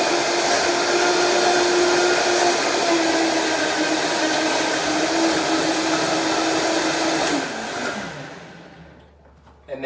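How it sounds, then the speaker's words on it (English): A blender whirs loudly and steadily for about eight seconds while blending a green soy milk smoothie, then winds down and stops, ending in near silence. "I have everything in the blender ready for us to go. So all we're going to do is turn it on for about 10 seconds."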